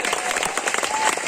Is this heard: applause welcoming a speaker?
yes